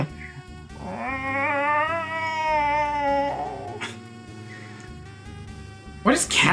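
Cats yowling in a long, wavering, rising-and-falling mating cry from the video game Breath of Fire 2, loud and close, followed by shorter whines and a sharp burst at the end.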